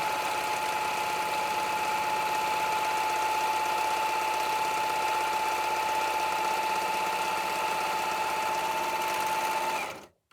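A sewing machine runs straight stitching on an apron, a loud, even, rapid mechanical whir held steadily up close before stopping abruptly.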